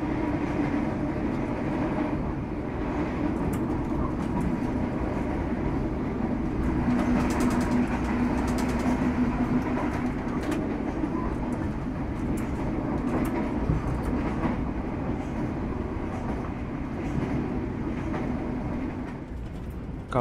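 Steady rumble and rattle of the KA Dharmawangsa train rolling along the rails from Surabaya to Jakarta, heard from inside an executive-class carriage, continuous and even throughout with no talking.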